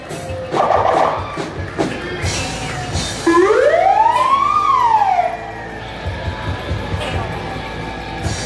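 Volunteer fire department rescue truck siren in a St. Patrick's Day parade in Annapolis, a single loud rising-and-falling wail near the middle, with crowd noise and an announcer talking around it.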